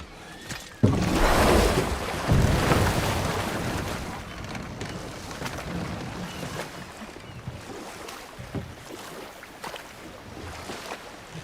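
Continuous broadband rush of a waterfall in the God of War Ragnarok video game, a loud burst near the start settling into a steady, slightly softer roar with faint wash and occasional low thumps.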